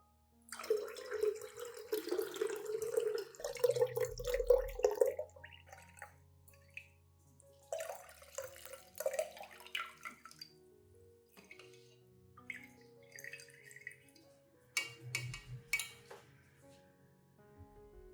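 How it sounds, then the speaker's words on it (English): Banana-and-cinnamon solution is strained, pouring and trickling in short bursts, with drips and splashes between pauses, close by. "I strain out the banana pulp from the cinnamon solution"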